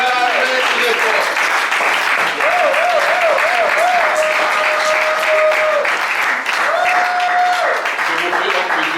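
A church congregation applauds loudly and continuously, with sustained keyboard tones and a melodic line running beneath the clapping.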